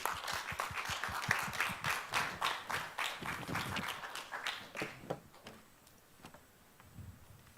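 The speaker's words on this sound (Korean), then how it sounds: "여러분 뜨거운 박수로 맞아 주십시오." An audience at a Korean biotech trade-show opening ceremony claps to welcome a keynote speaker, brisk rhythmic clapping that is loud at first and then thins and fades toward the end.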